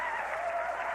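A studio audience at a late-night television talk show claps steadily, a soft, even patter of many hands sustained throughout without any talking over it.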